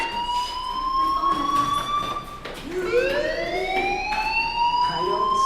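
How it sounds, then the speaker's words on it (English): A fire alarm rings in the video game Life is Strange: a loud, sustained electronic tone that wavers, dips briefly, then sweeps upward again, close and continuous throughout. "Hey, do you hear that fire alarm?"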